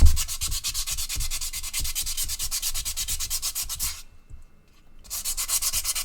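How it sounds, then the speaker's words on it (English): A Petoskey stone is rubbed by hand on 220-grit sandpaper in quick, even back-and-forth strokes, a close, gritty scraping that pauses for about a second before resuming. "So the sandpaper is doing a thing to the fossil."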